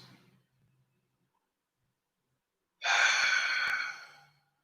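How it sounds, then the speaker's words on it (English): During a vinyasa yoga session, a single long, audible Ujjayi breath exhales through the throat with a soft, steady hiss after a quiet pause. It then fades out. "So release the Ujjayi breathing."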